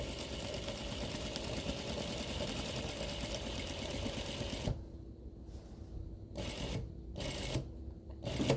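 A sewing machine stitches premade binding onto a quilt: a fast, steady mechanical whir for several seconds, then short bursts of stitching broken by pauses near a miter corner.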